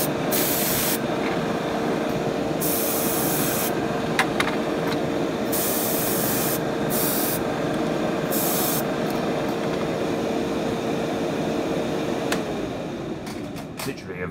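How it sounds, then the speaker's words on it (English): Airbrush spraying paint inside a spray booth while weathering a model PTA/JUA railway wagon: a loud, steady hiss with the booth's extraction fan droning throughout, the spray cutting in and out in bursts. "Fire up the spray booth again and get going."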